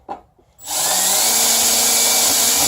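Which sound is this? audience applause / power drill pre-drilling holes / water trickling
power drill pre-drilling holes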